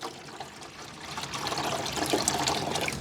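Water pours into the wet tile saw's reservoir with a trickling splash that starts faint and swells louder and fuller over the last couple of seconds.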